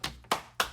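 Three crisp claps or hand taps, evenly spaced and close by, each a sharp snap with a brief tail and no voices around them.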